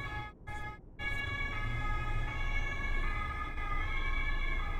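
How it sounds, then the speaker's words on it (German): In the Euro Truck Simulator 2 driving game an emergency vehicle siren wails steadily over a low engine rumble, loud and close, after a brief dip near the start. "So, gleich habt ihr wieder Tatütata am Ohr."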